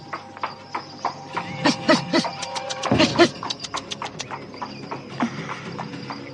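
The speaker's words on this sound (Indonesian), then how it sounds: "Kereta kuda ini mulai berjalan perlahan-lahan." Horse hooves clip-clop on the ground as a horse-drawn carriage begins moving slowly, a close, uneven run of sharp hoof strikes with a faint background hum.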